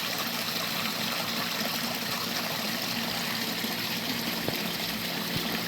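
Water trickling and splashing into a new garden pond, a steady close hiss of falling water running unbroken the whole time, with a faint knock partway through.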